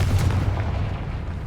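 A Confringo fire spell from Hogwarts Legacy blasts as a single heavy booming burst, then a rumbling tail fades over about a second and a half, with no voices.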